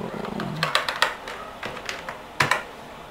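Someone types on a computer keyboard while renaming a file, making a short run of close, light key clicks followed by a few separate taps after a pause.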